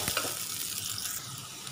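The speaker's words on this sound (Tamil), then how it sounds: "எண்ணெய் விட்டுட்டு எடுத்து வச்சுருக்கிற முழு பூண்டை சேர்த்துக்கலாம்" Whole garlic cloves fry in hot oil, giving a steady close sizzle throughout the short stretch with no talking.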